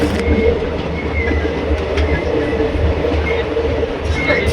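A train on the Kashmir valley line rumbles and clatters steadily as it nears a railway station, a continuous close rolling sound heard from aboard.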